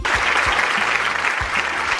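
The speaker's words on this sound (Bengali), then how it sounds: "তামান্নার জন্য একটা জোরে হাততালি" Warm applause for a Class 4 student prize winner at a Student of the Year ceremony, a continuous crowd of clapping hands held for about two seconds, close and even in loudness.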